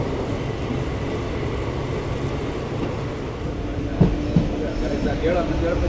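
The Tuticorin–Mysuru express rumbles steadily out of Mysuru, heard from aboard with a continuous low roar and a couple of sharp wheel clacks partway through.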